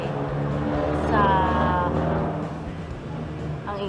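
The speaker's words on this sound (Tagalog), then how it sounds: "ang ingay ng sasakyan." A noisy car passes by outside, a low engine rumble with a rising whine that swells and then recedes, heard under a person speaking nearby.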